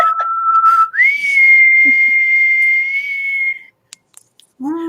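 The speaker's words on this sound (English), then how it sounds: "did you know that I can whistle the Doctor Who thing?" A person whistles a tune meant as the Doctor Who theme: a clear, close pitch held low, then sliding up to a long sustained high note, ending in a few faint clicks before a voice starts.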